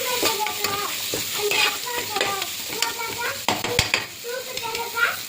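Carrots and beans sautéing in a pan, stirred steadily with a spoon, giving a continuous close sizzle with scraping strokes and clinks against the metal.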